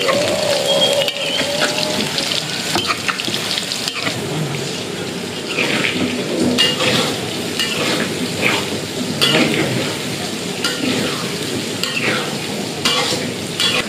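Tofu fries in cooking oil in a street-food rice-packet kitchen, giving a steady, close, dense sizzle with stirring, scraping and clinking of pans and utensils throughout, and no talking.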